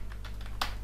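Keys tapped on a computer keyboard while entering a search, a few light clicks in quick succession with one firmer press near the end, close and quiet over a steady low hum.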